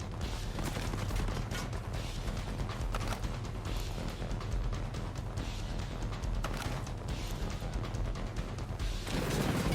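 Unsuppressed P320 pistol fire in Ghost Recon Breakpoint, a dense run of loud, harsh shots and crashing reports packed closely together, with no talk.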